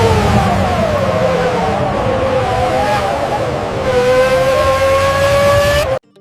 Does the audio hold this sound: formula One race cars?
yes